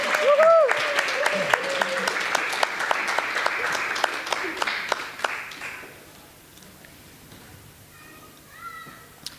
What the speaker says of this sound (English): There is big clapping